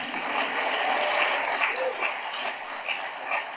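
A conference audience claps for panelists as they are called up, an even wash of moderate applause with a few whoops and a voice briefly over it.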